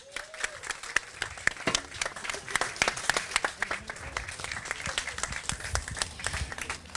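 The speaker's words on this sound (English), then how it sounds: "Another round of applause." Applause from a crowd at a fire service passing out parade, many separate claps ringing out in an uneven patter, moderately distant, with voices murmuring faintly underneath.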